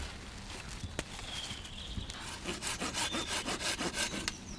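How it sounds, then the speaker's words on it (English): Handsaw cutting through hazel wood on a workbench, a faint scraping start that settles into steady rhythmic back-and-forth strokes, close by and without talk. "And when you saw with a handsaw,"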